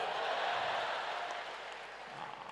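Applause from an audience at a poetry event in Surat, a continuous broadband patter of many hands clapping at moderate level, steady for the whole stretch and easing off slightly toward the end.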